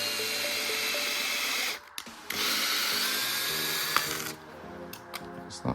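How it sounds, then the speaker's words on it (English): A power drill runs in reverse, backing a bit out of plastic RC car arms. It whirs steadily, stops briefly, then runs again with a grinding, slightly strained tone before cutting off. "Reverse the drill, by the way, when you want to pull it out."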